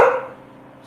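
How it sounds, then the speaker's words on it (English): A single loud, close bark from a dog at a homestead, its sound trailing off quickly against a quiet background. "He's a bad dog."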